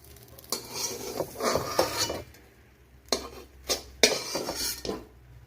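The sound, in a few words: scooping cooked egg mixture out of a pan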